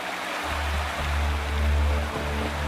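Waterfall in the video game Wuthering Waves, a steady full rush of falling water with a deep low rumble, continuous and fairly loud with no voices.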